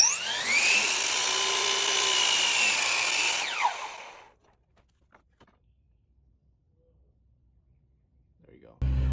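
Power miter saw cutting window casing trim, a loud steady whining cut of about four seconds with a falling pitch as it winds down, followed by near silence.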